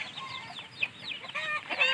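Four-month-old Aseel Shamo chickens at a breeding farm cluck close by in short, irregular bursts, with some higher squawking calls mixed in.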